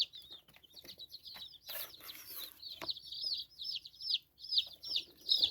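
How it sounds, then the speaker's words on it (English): Young brown red game chicks peep and cheep in a quick, repeated chatter, faint and fairly close, with soft rustling and scuffing in the background and no talking. "And this one here, we've got some brown red chicks."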